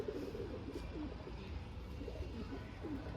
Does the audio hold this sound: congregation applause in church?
no